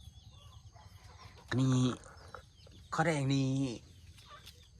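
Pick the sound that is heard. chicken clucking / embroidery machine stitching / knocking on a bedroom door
chicken clucking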